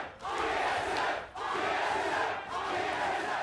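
Large arena crowd roaring and cheering at a League of Legends esports match between Immortals and TSM, a dense sustained wall of crowd noise with two brief dips, no talk over it.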